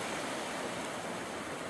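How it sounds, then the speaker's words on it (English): Ocean waves roll in over an offshore sandbar on a winter evening, a steady, even wash of surf that fills the clip at low volume with no voices. "Just watching the waves roll in."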